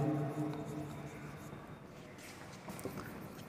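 Chalk or marker scratches across a board in short strokes, quiet and near, following a brief burst of speech at the start.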